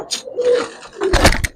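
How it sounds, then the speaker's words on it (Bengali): Old-generation Giribaz and Palla line pigeons cooing close by, a brief soft coo followed by a fuller, louder burst of cooing. "আরো কিছু কবুতর দেখাই।"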